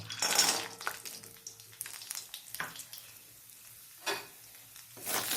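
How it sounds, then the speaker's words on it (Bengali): Bori, dried lentil dumplings, frying in oil after fish for a lau (bottle gourd) fish curry: uneven crackling and sizzling with a few spatula scrapes and clinks, rising in bursts toward the end, no talking. "এখন আমি দেব কয়েকটা বড়ি ভেজে নেব।"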